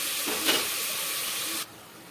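Mutton sizzles while sautéing in a pan, a close, steady hiss that swells briefly near the start and then cuts abruptly to a quieter background.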